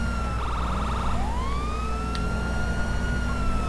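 A police car siren from the video game GTA 5 with the LSPDFR mod wails close and loud, with a rapid yelp switching into a rising, sustained wail over steady engine and road noise.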